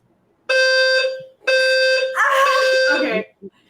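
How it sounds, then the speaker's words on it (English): A loud household fire alarm blares in two long, harsh tonal bursts close by, followed by a rougher, noisier burst and a brief blip at the end. "I got a fire alarm."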